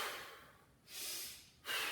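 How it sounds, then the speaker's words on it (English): A person doing kettlebell swings breathes heavily and rhythmically, with sharp exhale bursts repeating close and fairly faint, without talking. "listen to my breathing"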